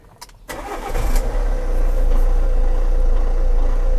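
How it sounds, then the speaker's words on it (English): The 1.6 Multijet diesel engine of a Fiat Doblo van starts after a few clicks and settles into a loud, steady, low-pitched idle with a rough diesel clatter. "we got a bit of a rough idle at the moment"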